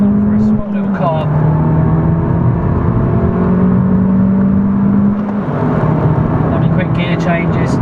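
A small Abarth 695C Rivale engine pulls hard and steady from close by, its drone rising in pitch through the gears, with a voice talking over it.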